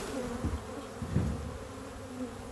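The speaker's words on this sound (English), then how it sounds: "You see immediately, you see a lot of the bees flying." Honey bees taking flight after a hive frame is shaken, a soft, steady buzzing drone of many bees with a few louder passes close to the microphone, no talking.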